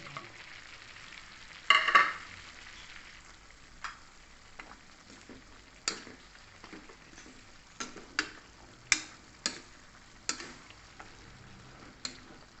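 Squash frying in a pan for sautéed string beans and squash gives a faint, steady sizzle, broken by a series of sharp clicks and scrapes from stirring spaced a second or two apart.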